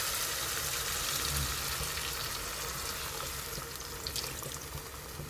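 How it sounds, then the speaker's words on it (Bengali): Water poured into a pan of sizzling spice paste for a Bengali pabda fish curry, a steady hiss and bubbling that stays soft and continuous, with no voices. "আমি এবার এতে দিয়ে দিচ্ছি জল"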